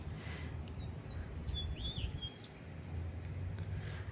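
Birds chirp and tweet in a spring garden visited by cardinals and grackles: a few faint, brief calls over a steady low outdoor rumble, no talking.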